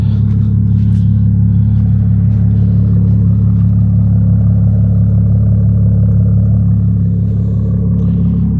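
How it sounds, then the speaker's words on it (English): A BMW 335 with the N54 engine converted to a single turbo runs steadily, a loud, close, even low rumble with no misfire, heard alone. "don't you guys love how an N54 sounds when it's not misfiring? Listen to this."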